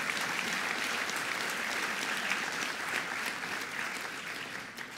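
Dense, sustained audience applause at a public lecture on the future of food in Iowa City, a steady wash of many hands clapping with no talk over it, slightly distant in a hall.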